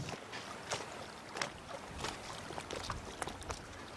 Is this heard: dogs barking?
no